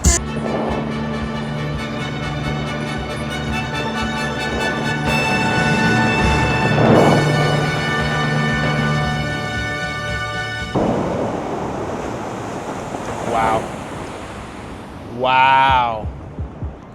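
The Bellagio fountain water show, a long, steady wash of rushing water with broad noise near and loud throughout, ending in a brief burst of other sounds.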